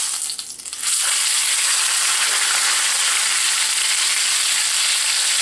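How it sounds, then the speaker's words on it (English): Corned beef browns in a hot cast iron skillet, giving a loud, steady sizzle that bursts in about a second after a brief quieter start and then holds without a break. "I'm going to brown this before I put it into braise. It's going to sizzle a little when I do this."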